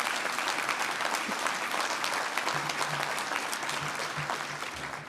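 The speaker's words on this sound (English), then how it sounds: "Give yourselves a round of applause." A union audience gives a sustained round of applause, dense clapping throughout, with a faint low voice or hum surfacing partway through beneath it.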